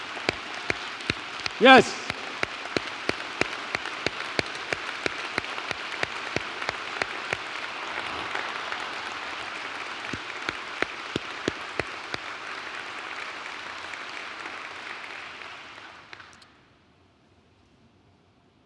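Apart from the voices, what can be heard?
audience applause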